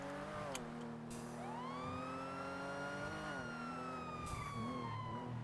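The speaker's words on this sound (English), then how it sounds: "I should not be using lights and sirens if I'm off duty." A police car siren in the GTA V NoPixel role-play game wails with steady rising and falling tones over a low engine hum, fairly quiet and continuous, with no talking.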